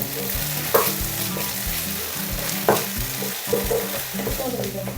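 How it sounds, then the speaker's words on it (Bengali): Ginger garlic paste frying in a pan for chicken bhuna, a continuous sizzle with the scrape and knock of a spoon stirring at irregular intervals, several sharper clatters standing out, no talking. "আদা রসুনের পেস্ট দেবো তিন চা চামচ নেড়ে চেড়ে দু তিন মিনিট ভেজে নেব"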